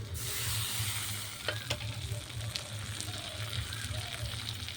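Chopped tomato goes into hot mustard oil with fried onion, black cumin seed and dried chilli in a home kitchen, giving a loud sizzle that settles into a steady crackle with a few stirring scrapes.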